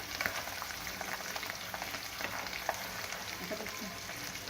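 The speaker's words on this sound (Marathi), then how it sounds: "शेंगादाणे तळून घेते 1 वाटी, आणि ते तळत आले की मिरची पण घालते, त्याबरोबरच लगेच मिरची हे सर्व तळून घेते" Peanuts and green chillies fry in oil in a kadhai, a continuous moderate sizzle with scattered small pops and light stirring scrapes throughout, no one speaking.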